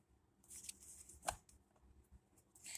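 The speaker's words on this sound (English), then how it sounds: "Now I find these cards a little bit stiffer to shuffle" Tarot cards from an After Tarot deck, stiff new stock, riffle and slide in a quiet room, a few soft bursts of papery flutter with one sharper snap near the middle, close and faint.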